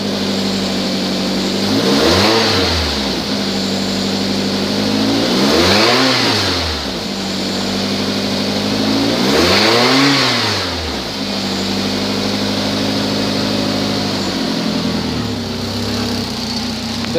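A 2008 Nissan Altima engine with an exhaust leak revs up three times in distinct rising-and-falling pulls, with a steady near idle between them and a fainter fourth blip near the end.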